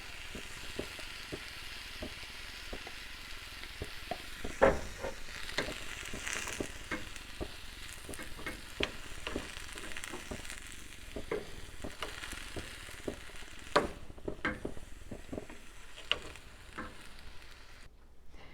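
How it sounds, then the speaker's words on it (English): Green beans with onions and garlic sizzle steadily in a pan after a splash of Bragg's liquid aminos, with a constant crackling hiss and scattered sharp pops from close by, and no talking. "I cooked that for about 4 to 5 minutes to make sure it is cooked really well"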